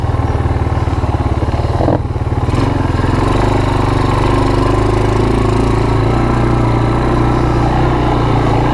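A Yamaha Moto4 ATV fitted with a PZ30 clone carburetor runs loud and close, its engine rumbling steadily at a throbbing pulse, with a brief dip near the start before it pulls on at a constant roar.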